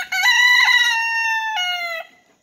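A single rooster crows loudly and close by, a long drawn-out call that breaks midway and ends abruptly.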